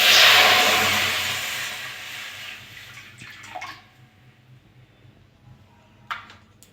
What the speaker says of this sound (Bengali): আর এই বাটি মেপে আমি 2 বাটি জল দিয়ে দেবো।